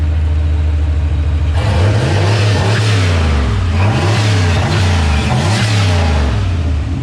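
A turbocharged Foxbody Mustang with a GT40 engine revs hard and loud, close by, its engine climbing and falling in repeated sweeping rev cycles over a steady rumble, with no voices.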